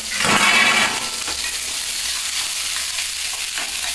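Food frying covered in a pan over a low flame, a Bengali-style dish with green chillies laid on top; a steady, continuous sizzle fills the whole stretch with no voices.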